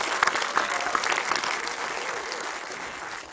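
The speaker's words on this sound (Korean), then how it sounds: "박수로 모셔주시기 바랍니다." Audience applause at a film premiere screening, a full crowd clapping steadily, with a few sharper, louder claps standing out near the start before it settles into an even patter.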